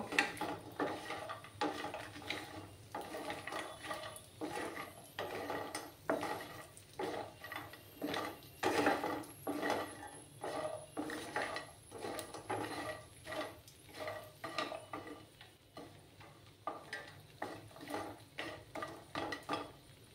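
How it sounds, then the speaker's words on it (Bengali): Lentil dumplings (bori) fry in a pan as a spatula stirs and knocks them around, producing rhythmic scraping and clattering strokes over a faint sizzle, close and moderately quiet, with no talking. "বড়িগুলোকে আমি একটু লাল লাল করে ভেজে নেব"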